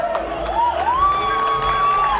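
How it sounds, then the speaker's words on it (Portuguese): Festival crowd at a film screening gives a dense, sustained roar of cheering and applause with whoops, a voice rising high above the din throughout. "quando ele fala do Lula, primeiro vem, né, bastante aplausos, mas seguido depois de uma sonora vaia"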